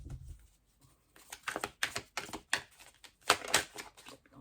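Tarot cards are shuffled by hand in a quick series of soft riffling, slapping bursts, close and fairly quiet, with brief pauses between.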